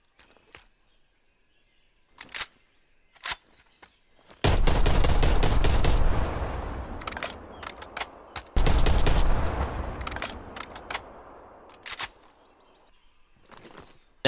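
A Type 63 tactical rifle with no attachments fires in Call of Duty Cold War: two loud sustained volleys of rapid shots, with scattered sharp single cracks and clicks before, between and after them.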